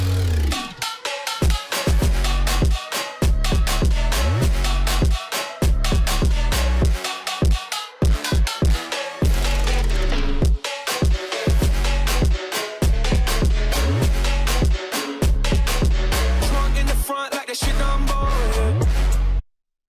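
Moombahton remix of a song playing loud and dense, with punchy kicks, deep 808 bass and busy percussion driving steadily, brief drop-outs breaking the groove, no talking.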